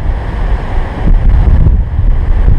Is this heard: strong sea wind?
yes